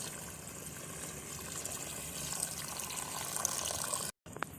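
Coconut milk pours steadily into a boiling fish curry, giving a continuous close liquid rush and sizzle that cuts off abruptly near the end.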